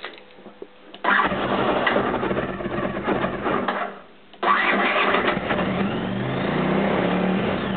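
A cold Honda CX500 motorcycle engine with a new CDI unit cranks and catches, runs roughly without choke, dies briefly, then restarts and keeps running with an uneven idle.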